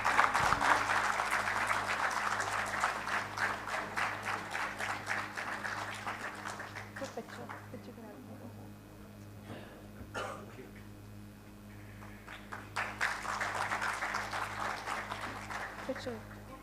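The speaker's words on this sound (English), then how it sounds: "Can we please clap for them once?" An audience at a global project management symposium bursts into applause, a dense clatter of many hands that fades into a lull and then swells again in a second round.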